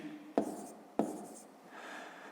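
A pen scratches out two quick marks on paper, each a short stroke, close and quiet, while a sum is worked in a fifth-grade maths exercise.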